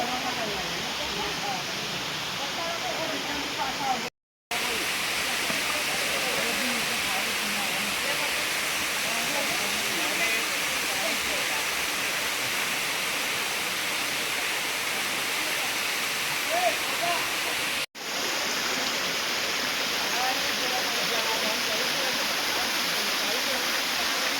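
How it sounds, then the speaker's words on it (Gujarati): A waterfall on the Vishwamitri river at Pavagadh roars in a steady, dense rush of falling water that fills the whole stretch, broken only by two brief cuts, with a voice speaking faintly over it. "મિત્રો સુંદર મજાનો આ ધોધ છે, તો મુલાકાત લેજો."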